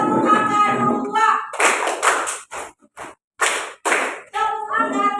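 A classroom of students claps a numbered clap pattern, sharp grouped bursts of hand claps with short gaps between them, alternating with a teacher calling out the counts.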